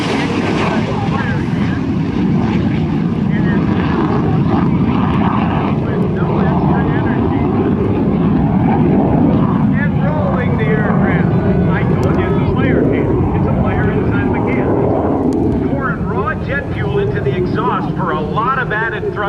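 An airshow aircraft at the Dayton Airshow makes a loud, sustained roar as it passes at about 200 mph and then climbs, the engine noise holding steady under continuous commentary from an announcer.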